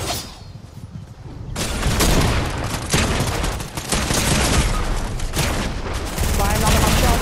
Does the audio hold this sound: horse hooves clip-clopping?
no